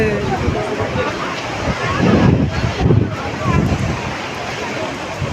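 Sea waves and wind on the beach at Mandarmani, a loud wash of surf with gusty wind rumble across the microphone, swelling in a few surges midway, with faint voices in the background.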